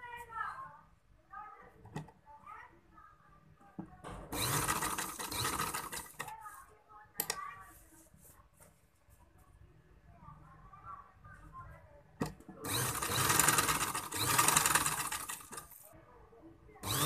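A sewing machine stitches a neck placket in two loud bursts of several seconds each, with quieter moments and a little talk between the runs.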